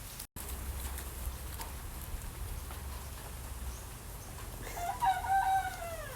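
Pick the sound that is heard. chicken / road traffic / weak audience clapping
chicken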